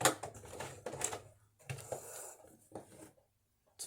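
A home sewing machine runs in short mechanical bursts while back stitching on fabric, with brief pauses between runs of rapid, close clattering.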